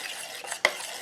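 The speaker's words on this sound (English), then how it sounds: "essentially what we want to do is mix this up real well" A spoon stirs a pot of homemade BBQ sauce with garlic chunks, giving soft scraping swishes close by and one sharp clink of metal against the pot near the end, no voices.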